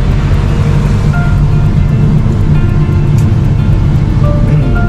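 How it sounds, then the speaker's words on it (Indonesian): Floodwater from an overflowing river in Kaliukan village rushes past in a loud, continuous roar with a low rumble underneath. The surge stays steady throughout, and no one speaks. "Air dari sungai ini meluap ini."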